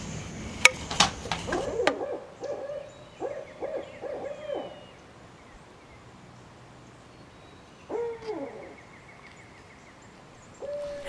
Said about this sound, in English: Had some barred owls come in for a visit this evening, so I decided to record it and put it here so you guys can see them.